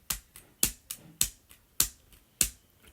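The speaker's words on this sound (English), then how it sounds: "Those are the sounds of a beaten and broken keyboard." Sharp, irregular key clacks from a beaten, broken computer keyboard, about ten close crisp strikes of varying strength in quick succession with no talk.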